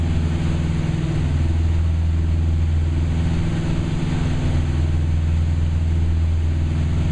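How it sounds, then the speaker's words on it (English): Loud, steady drone of propeller aircraft engines in flight, a deep layered hum that stays constant throughout with no voices. "The synchronized humming of the engines sound incredible."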